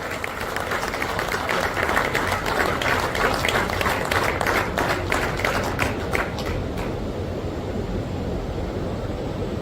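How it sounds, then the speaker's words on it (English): Loud applause from a large audience at a Madhya Pradesh Cricket Association inauguration greets former India cricket captain Dilip Vengsarkar, dense clapping that carries steadily for several seconds before thinning toward the end. "let's welcome Dilip Vengsarkarji with a loud round of applause."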